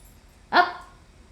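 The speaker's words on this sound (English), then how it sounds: "But yes, that is my dog." A single sharp dog bark from a pet named Athena, close and fairly loud in an otherwise quiet room, with a short ringing tail.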